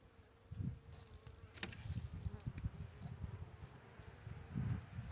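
Honey bees buzz in a crowded hive with several packed frames during a February check, a low hum with louder swells near the start and end, plus soft rustling and a brief sharp knock.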